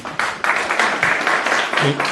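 Conference audience claps for guests in a hall, a short burst of brisk, fairly close applause lasting a couple of seconds with uneven pulses.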